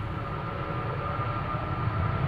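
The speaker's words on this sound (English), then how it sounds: "you can already hear the engines of the next airplane, an A330-300 to Tampa, Delta Airlines" Steady jet engine roar from a Delta Air Lines Airbus A330-300 at Amsterdam Schiphol Airport, a continuous broadband rumble with a faint tonal whine, nearby and unbroken.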